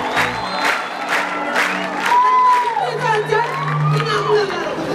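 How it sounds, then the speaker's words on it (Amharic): A congregation at a church healing service bursts into loud ululation and cheering in praise, high trilling voices rising together after a voice. "እልልታ ጭንጭባ ለጌታ።"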